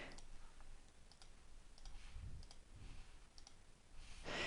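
Computer mouse clicks while working in a KPI browser, a few faint, sharp clicks scattered over a low steady background hum, with no talking.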